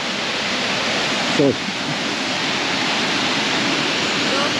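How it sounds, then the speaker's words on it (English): Steady, loud rush of the Falls of Falloch waterfall, constant white-noise roar throughout, with a brief spoken word near the start. "See you later, waterfall."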